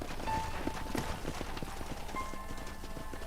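Horse hooves gallop in a steady rapid clip-clop rhythm in the Red Dead Redemption game, with riding noise around them; a brief voice is heard.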